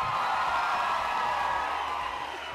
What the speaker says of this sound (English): Give a huge round of applause to Jackson.